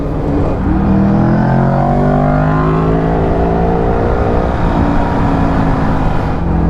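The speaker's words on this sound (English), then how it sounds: "That's an SC project exhaust on the Tuono 1100" A loud, close Aprilia Tuono 1100 V4 motorcycle of around 150 horsepower, fitted with an SC Project exhaust, roars as its engine climbs steadily through the revs, a rising tone that fills the whole stretch without speech.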